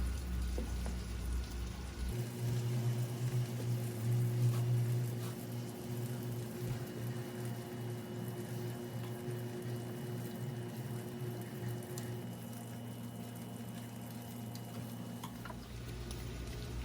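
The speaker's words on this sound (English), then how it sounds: "I also put a tablespoon of butter in the pan. We're gonna let that melt." A tablespoon of butter melts in a frying pan for a breakfast egg sandwich, giving a steady soft sizzle and hiss. The sound holds constant and close for the whole stretch, with no talking.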